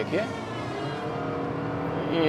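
The engine of a Honda Elevate ZX automatic in S mode pulls hard and rises steadily in pitch toward 5000 RPM during an overtake, with someone talking over the engine noise.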